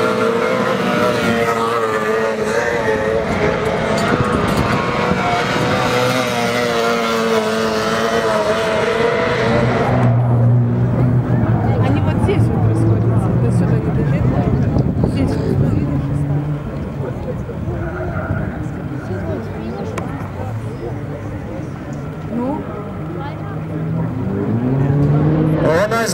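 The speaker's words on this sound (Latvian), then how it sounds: "Aiziet Formula 4 brauciens ir sācies." Formula 4 race cars roar and rev loudly through gear changes at Speed Festival Kurzeme, with engine noise filling the track and a commentator talking over it.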